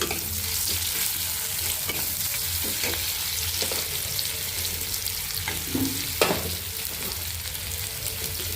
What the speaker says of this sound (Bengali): সর্ষের তেল দিয়েছি কড়াই, এরপরে দিলাম পেঁয়াজ